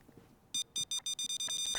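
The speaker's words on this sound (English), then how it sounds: "That's a really annoying camera spawn, because it just keeps beeping." A security camera in the video game Payday 3 beeps repeatedly, a steady series of short, bright, evenly spaced electronic tones, loud and close over quiet game background.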